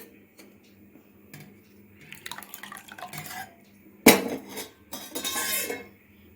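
Millet porridge mixed with curd in a pot: sparse scraping and clinks of a utensil against the pot, then a sharp knock and a louder burst of stirring and sloshing near the end.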